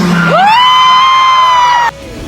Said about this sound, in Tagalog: Grabe ang sigawan ng mga tao na magkalapit na ang dalawa